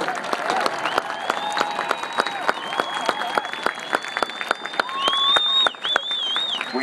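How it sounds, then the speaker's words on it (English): Crowd applauding at an evening patriotic show in the stands, with sharp individual claps over a dense clapping bed, while whistles and cheers rise near the end. "with a round of applause"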